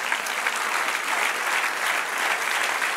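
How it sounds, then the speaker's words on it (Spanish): A church congregation applauds during a Sunday morning sermon service, a dense, even clatter of many hands clapping steadily throughout. "Dale un aplauso Señor."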